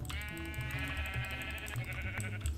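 A sheep bleats in the Minecraft video game, one drawn-out wavering bleat that fills the short clip over a steady bed of background game sound.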